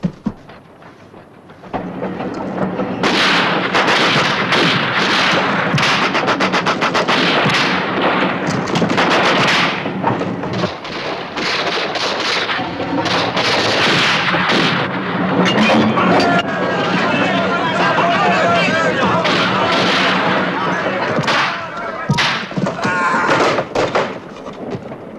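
Gunfire in a 1972 Pancho Villa Western film, loud rapid bursts of shots and sharp cracks that go on for most of the scene, mixed with chaotic battle noise and clattering.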